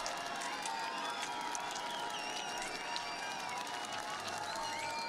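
A crowd applauds and cheers steadily for a standing para cross-country skier crossing the finish line after a 20 km classic race at the Sochi 2014 Paralympics, a continuous wash of clapping and shouts with a commentator talking over it.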